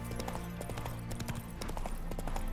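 Horse hooves clip-clop steadily across The Witcher 3 as a small requisitioned horse trots along, a continuous rhythmic patter of close, clear footfalls with no voices.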